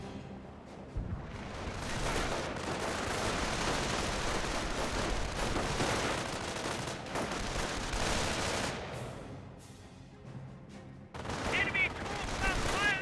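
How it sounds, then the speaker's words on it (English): Heavy, continuous small-arms and artillery fire rolls through a Company of Heroes 1 battle, dense and unbroken for most of the stretch with a brief lull near the end, and voices speak underneath. "Enemy troops are firing on us!"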